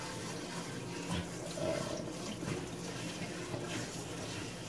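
Water running while shampoo is rinsed out of hair, a soft steady stream of splashing and trickling with small irregular surges, fairly quiet and close, no talking.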